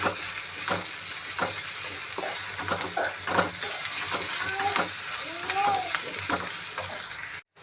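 Ginger-garlic paste fries in a pan for egg curry, a steady close sizzle broken by repeated scraping stir strokes, with brief faint voice-like tones partway through.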